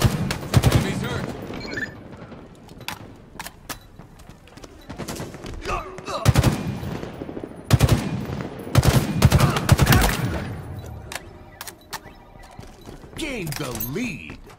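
Gunfire in the video game Halo during a ranked Oddball match, with loud, sharp bursts of automatic fire coming in clusters with short gaps, alongside in-game announcer voice callouts.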